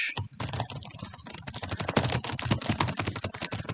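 Rapid, uneven typing on a computer keyboard, with dense close-up key clacks continuing throughout and no talk.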